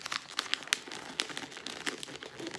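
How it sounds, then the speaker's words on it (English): Wrapping paper being folded around a present and secured with tape: quiet, close crinkles and crisp rustles in irregular bursts, with no talking. "the bottom pulls back up and I secure it with a piece of tape"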